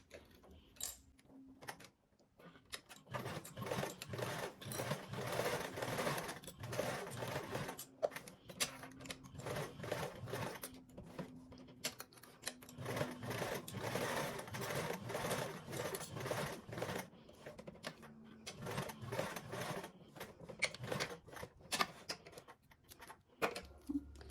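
A sewing machine topstitches fabric at a 1/8 inch seam allowance, chattering quietly and steadily in uneven runs for about twenty seconds, with no talk.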